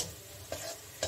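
Ground turmeric, cumin and coriander powder frying in a pan for a Bengali jackfruit curry, a steady close sizzle broken by two brief scraping stirs.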